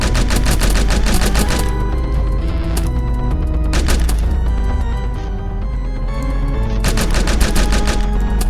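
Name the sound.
sniper gunfire in a video game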